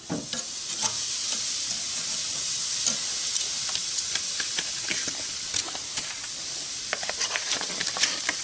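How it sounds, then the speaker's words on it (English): Mixed vegetables, thawing from frozen, sizzle steadily on a charcoal grill, a loud continuous hiss with scattered pops and crackles throughout and no voices. "I'm going to put these veggies on here first and let them cook for a little while and get unthawed"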